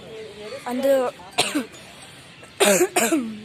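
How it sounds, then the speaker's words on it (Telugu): A person coughs several times in short, harsh bursts, with a brief pause between two pairs of coughs. "మాట్లాడి దగ్గు వస్తుంది"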